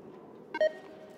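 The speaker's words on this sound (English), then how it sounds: "Each of these beeps when it turns on and off, and because there's 16 of them, they just get louder." Sixteen machines in the video game Oxygen Not Included switching at once produce a single short beep, a brief tonal blip rising out of a quiet hum, with no talking.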